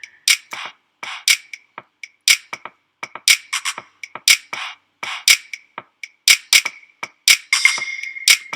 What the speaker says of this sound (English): So our float beat sounds like this